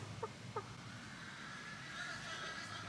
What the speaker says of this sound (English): the chickens are talking to you